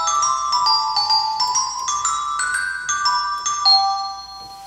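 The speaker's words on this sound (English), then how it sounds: "Here's a glockenspiel." Glockenspiel percussion on a theater organ plays a short run of bright, ringing metallic notes, each struck tone sustaining and overlapping the next, clear and close with no voices.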